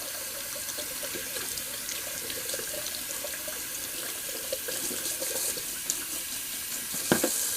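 A Semogue 1250 shaving brush is rinsed under a running bathroom sink tap, with a steady close hiss of flowing water and small splashing changes as the brush moves through the stream.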